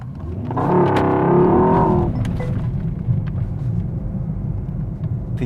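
A 2024 Mercedes S63 AMG with a V8 accelerating hard, a loud roaring surge of engine and wind that rises for a couple of seconds, then settles into a steady rumbling road noise, no talk.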